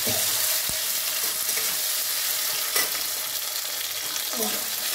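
Tomato frying in a wok of hot oil with dried red chili and nigella seeds, a loud continuous hissing sizzle with a few spatula scrapes and taps; no talk.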